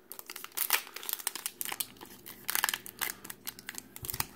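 Close, crinkly foil crackles and tears in quick, uneven bursts as a Pokémon card pack is ripped and pulled open by hand, with no talking.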